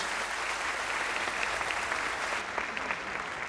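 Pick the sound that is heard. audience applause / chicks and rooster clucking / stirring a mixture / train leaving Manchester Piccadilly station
audience applause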